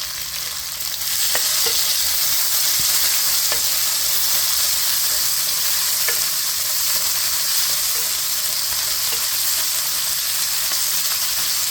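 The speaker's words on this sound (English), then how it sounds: "We'll add in our onion," Onion and green chili sauteing in a pan for an eggplant curry, giving a steady, loud, continuous sizzle with occasional faint stirring clicks throughout.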